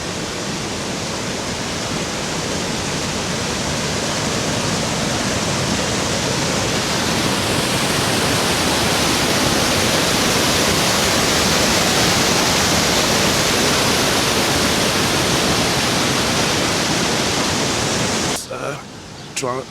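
Steady, loud rush of a fountain's splashing water near a river dam in Sarajevo, a continuous broad hiss close by with no breaks, cutting off near the end.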